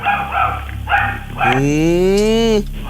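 A miniature pinscher gives a single drawn-out, whining bark-howl close by, after a stretch of people talking over background noise.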